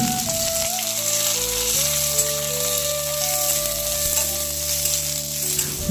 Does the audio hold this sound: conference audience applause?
no